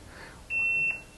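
A mobile phone gives a single short electronic beep, a clear steady tone lasting about half a second, heard alone in a quiet room.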